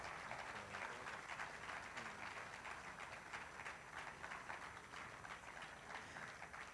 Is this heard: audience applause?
yes